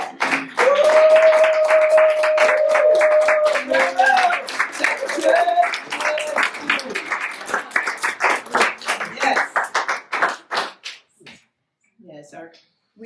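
A gathering at a family memorial meal gives Pam and Doug steady, lively hand-clapping that holds strong for several seconds, then thins into scattered claps and fades to silence. A voice sounds briefly over the applause.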